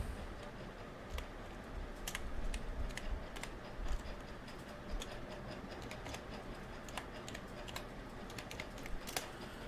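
Typing on a computer keyboard, soft scattered key taps at an uneven pace over a low room hiss, faint and close, with no voices.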